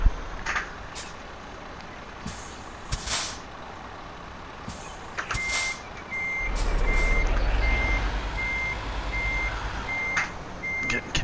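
A truck in Euro Truck Simulator 2 sounds its reversing alarm, evenly spaced beeps joined later by engine rumble and sharp air-brake hisses, with no voices.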